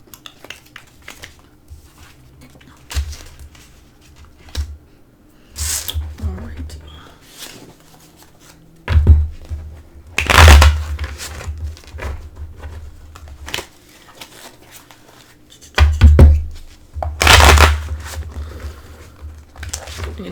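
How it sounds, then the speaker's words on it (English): Tarot cards being mixed and shuffled by hand, with soft sliding and rustling broken by several sharp, loud riffling bursts and slaps up close. "I'm going to shuffle it upside down just a few times"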